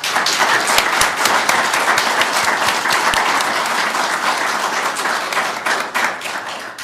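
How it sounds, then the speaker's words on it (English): An audience at a city manager candidate forum gives sustained applause, dense and loud from the start and slowly tapering, with a few sharper individual claps near the beginning. "everybody gave you a round of applause"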